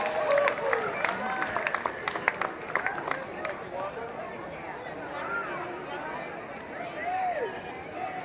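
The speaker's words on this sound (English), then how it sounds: "Let's give these handsome little boys a great big round of applause." Audience applause at a local gathering for young boys, clapping and crowd chatter at moderate distance with voices and cheers mixed in, gradually settling.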